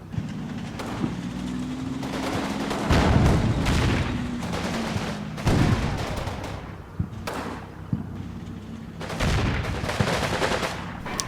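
Gunfire in the Combat Mission: Battle for Normandy war game, dense bursts of rifle and machine-gun fire with heavy booms, sustained and loud, surging and easing in waves over a rumbling battlefield background.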